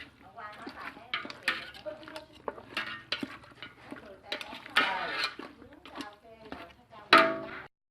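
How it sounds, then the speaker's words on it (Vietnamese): Chicken curry is stir-fried in a very large pot, with repeated scraping and clattering of a utensil against the metal and light sizzling, while a person talks over the cooking. "Đây, xào lên nghe thơm."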